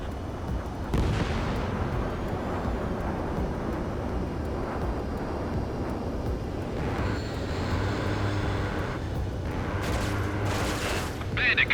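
Combat flight in Ace Combat 7: Skies Unknown, with a steady roar of jet engines and gunfire under radio chatter, and a missile launch whooshing out sharply near the end.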